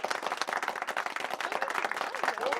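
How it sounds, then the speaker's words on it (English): Audience applause at a poetry and storytelling event, dense steady clapping from a crowd throughout, fairly close and even in loudness. "You can clap. There's people here."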